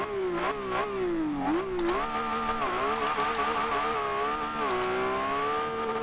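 A 2012 Lamborghini Aventador LP700-4 in Forza Horizon 2 revs hard through the gears, its engine note climbing, dipping at shifts and climbing again, loud and continuous with no talk.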